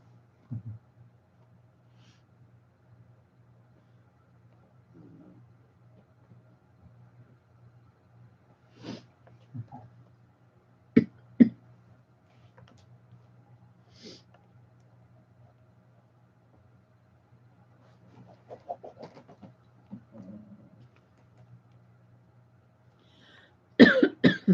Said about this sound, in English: Sneezing, coughing.